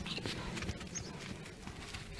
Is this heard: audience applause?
no